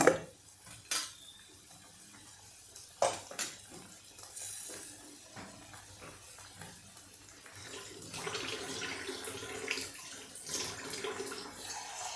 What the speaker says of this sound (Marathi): मिक्सर स्वच्छ करून मिक्सरमधलं हे पाणी मी टाकत आहे